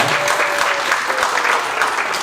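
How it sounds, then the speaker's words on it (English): Town hall audience applauding school board candidates at a Democratic forum, dense sustained clapping filling the room, loud and close, with a faint voice briefly underneath. "If I could just get one more round of applause for our school board candidates came out today."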